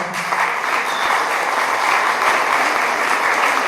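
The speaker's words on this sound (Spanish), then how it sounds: "Un aplauso, por favor." Audience applause fills a university conference hall at La Salle Noroeste, a dense, steady wash of many hands clapping at close range for nearly four seconds with no talk over it.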